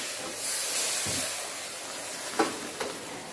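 A pot of pasta water boils in a home kitchen with a continuous broad steamy hiss. Two brief clinks sound near the end, and no one speaks.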